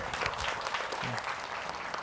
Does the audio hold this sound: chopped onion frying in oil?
no